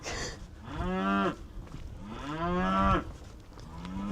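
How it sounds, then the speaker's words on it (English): Cattle lowing beside a cemetery in rural Ireland: two long, drawn-out moos, close and loud, each swelling and fading, with no talk over them. "And next to the cemetery are cows."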